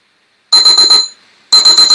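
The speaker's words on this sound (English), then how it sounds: "And there's your timer" An electronic workout interval timer beeps in rapid bursts of four, a sharp high-pitched trill, loud and close, pausing briefly before starting again.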